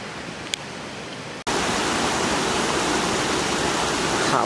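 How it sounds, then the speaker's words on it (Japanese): A clear mountain river runs at the Doshi no Mori campground, its dense, steady rushing filling the whole stretch, quieter for the first second and a half before a sudden jump to full loudness. "川が綺麗。"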